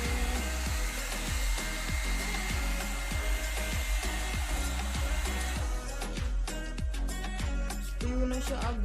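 A one-step hair dryer and styler blows through hair with a close, steady motor whir. Regular rhythmic pulses run through the airflow as the brush passes, and there is no talking.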